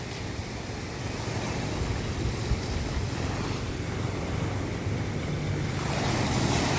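Steady roar of surf washing against the shore, continuous and broadband with a gusty wind rush, no voices.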